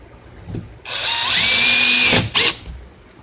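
A cordless drill set around torque 7 spins up loudly for about a second and a half, driving a screw into a hollow wall anchor to fix an HVAC mounting plate, followed by a short second burst.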